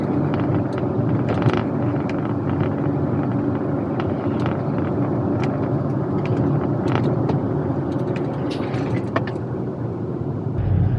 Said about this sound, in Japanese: 山に入ってから10分ぐらい走行しました。